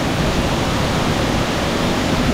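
Nyabomite waterfall in Nyanza, a large falls, roars as a steady, dense, broadband rush of water with no pauses, loud and close throughout, heard alone in the rain.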